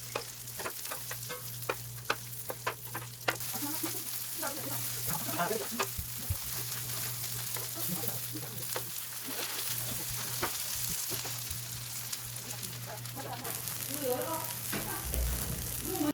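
Egg-dipped, flour-coated food fries in a pan of oil, giving a steady, dense sizzle with continuous crackle and pops, close and fairly loud throughout, with a low hum underneath and no talking.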